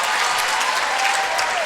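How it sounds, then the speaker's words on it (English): A crowd at a Tufts versus Amherst women's basketball game applauds steadily, a dense, even wash of clapping that fills the whole moment with a faint voice or two underneath. "The crowd is still here and still into it."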